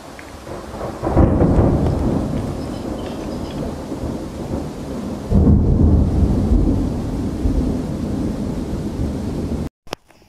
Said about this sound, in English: It was time to rain.